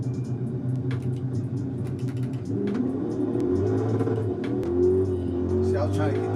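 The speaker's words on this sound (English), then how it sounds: "See, I was trying to get that kind of burnout." A car doing a burnout in Gran Turismo 7, the engine rumbling and revving up in rising, wavering pitch, close and steady, with someone talking over it.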